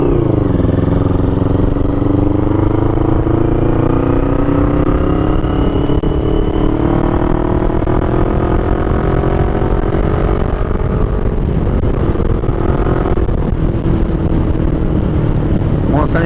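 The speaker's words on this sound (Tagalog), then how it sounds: "Napalingon sila nang bumomba ako." CFMoto NK450 motorcycle with an inline-four sound, its engine revved hard and held loud and close throughout, with pitch swelling and settling across repeated throttle blips.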